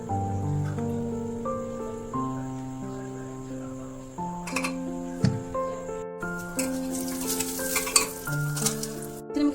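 Cumin, cauliflower, carrot, tomato, potato and soybean fry in desi ghee for khichdi, giving a soft sizzle and stirring scrapes under steady tonal music, which grow busier and louder in the second half.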